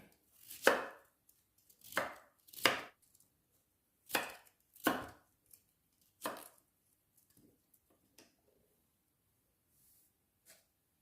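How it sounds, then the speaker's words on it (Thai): Vegetables for a Thai sour curry with cauliflower and kale are chopped on a cutting board, six sharp knife strikes in an irregular rhythm that then trail off into near silence. "ตอนหั่นตอนเตรียมก็จะใช้เวลานิดนึงเนาะ"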